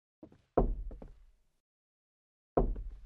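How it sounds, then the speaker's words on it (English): Knocking on a window in the horror game Mirror Mirror comes as a cluster of sharp, close raps, then a pause of about a second, then another loud knock, with no talking. "Wait, what is that knocking sound?"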